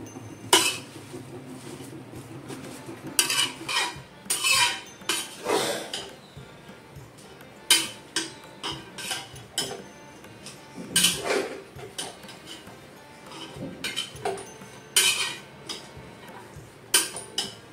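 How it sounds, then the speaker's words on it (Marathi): Vegetables being sautéed in oil for rishi panchami bhaji, heard as repeated clinks and scrapes of a spoon against a pan in irregular bursts over a quiet background, close and with no talk. "दोन ते 3 मिनिटे या भाज्या आपण तेलावर परतवून घेऊया."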